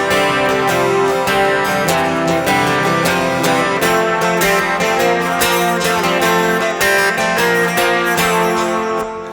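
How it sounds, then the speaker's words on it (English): Electric guitar through magnetic pickups in a rock rig, a dense, bright, continuous chordal sound with a steady, loud level throughout. "that sound, that's what's coming out of the magnetic pickups right there."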